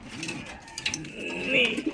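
A fancier's pigeon coos close by in soft, rolling, throaty calls, with someone speaking quietly underneath.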